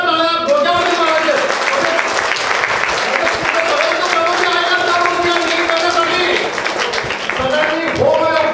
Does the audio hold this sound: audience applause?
yes